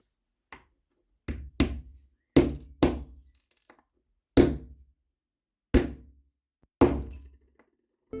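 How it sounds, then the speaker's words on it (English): Nails are hammered into a wooden model door: eight sharp, close knocks in an irregular rhythm with short gaps, some paired, each ringing briefly before silence. "I also hammered some nails into the door"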